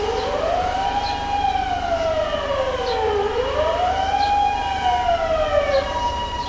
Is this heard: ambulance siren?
yes